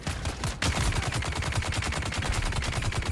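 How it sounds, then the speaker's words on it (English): Rapid automatic gunfire in the video game Dune: Awakening, loud and continuous, with fast repeated shots rattling steadily for about three seconds. "Some of those bullets, dude, they do so much damage."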